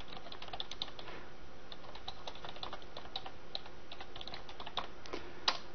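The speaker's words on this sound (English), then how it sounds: "Pardon my slightly slower typing here" Rapid, uneven clicking of fingers typing on a computer keyboard continues quietly throughout, with an occasional sharper keystroke.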